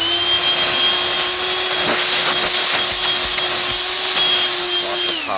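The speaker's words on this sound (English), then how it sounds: "This thing really does really good as far as suction. It's powerful." A Black+Decker Dustbuster AdvancedClean handheld cordless vacuum runs steadily and close, a loud continuous whirring motor drone with an airy high whine that holds for the whole stretch, no talking over it.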